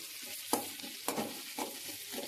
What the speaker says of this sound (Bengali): পেঁয়াজটাকে একটু লাল লাল করে ভাজা ভাজা করবো হালকা